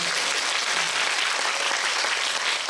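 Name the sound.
audience applause at cine talk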